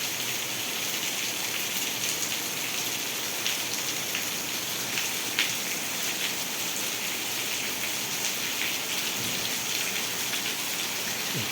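Wind-driven rain falls steadily on a village in Vejalka, Ranpur taluka, Botad district, making a dense, even patter with scattered louder drops on surfaces. It continues throughout with no voices.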